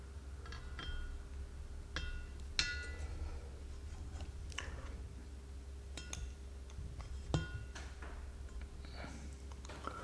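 Pliers pulling valve stem seals from a Jaguar S-Type cylinder head: scattered sharp metallic clicks and clinks, close and fairly quiet, spaced irregularly over a low steady hum, with no talking.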